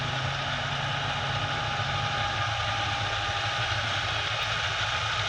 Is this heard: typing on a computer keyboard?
no